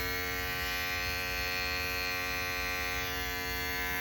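A steady, loud electric buzzing hum of an Andis ReVite cordless hair clipper running continuously at full power, close up, with no voices.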